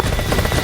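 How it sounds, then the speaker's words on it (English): Helicopter rotor and engine noise in a military video game, a loud, steady whirring drone with a faint chopping pulse, brief and continuous, with no talk. "Short-range helicopters are on the move."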